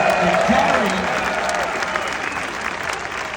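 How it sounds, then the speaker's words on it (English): A large crowd at a comedy roast event at VeeCon 2023 breaks into loud, sustained applause, steady and dense, with a voice audible briefly at the start. "I think we get a big round of applause for that."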